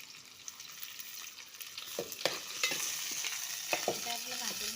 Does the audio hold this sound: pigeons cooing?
no